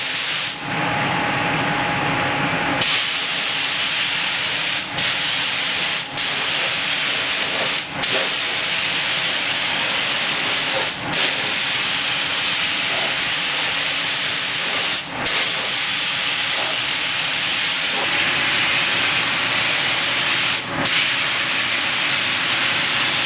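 A Pro 44 spray gun with a 1.8 tip spraying paint onto a 1972 Dart trunk, a loud steady close hiss with a short stronger burst at the start and brief dips at each trigger release.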